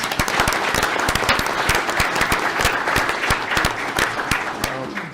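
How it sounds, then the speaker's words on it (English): An audience at a town board meeting bursts into applause for Boy Scouts, a dense, steady clatter of many hands clapping nearby for several seconds, with no talk over it. "give them a round of applause, please"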